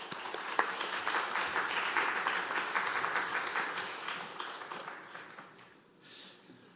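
Congregation at a Wednesday church service applauding to welcome the pastor, a steady wash of clapping from many hands that carries on for several seconds and thins out toward the end.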